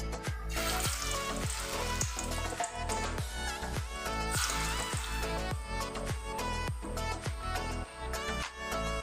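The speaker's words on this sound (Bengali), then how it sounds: "তেলটাও আমার গরম হয়ে গেছে এবার আমি এক এক করে ছেড়ে দেবো" Dhoka lentil cakes dropped into hot white oil, a continuous loud bubbling sizzle with repeated crackling spits and sharp pops coming at a fairly steady rhythm throughout.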